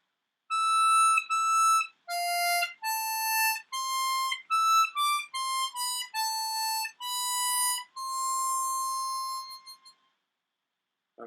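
A C harmonica plays a line of a song alone, a clean sequence of held and short notes that ends on one long sustained tone before falling silent.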